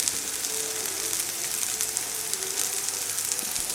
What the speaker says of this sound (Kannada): ಸೋಯಾ ಫ್ರೈ ಆಗ್ತಾ ಉಂಟು, ಚಂದ ಫ್ರೈ ಆಗಿ.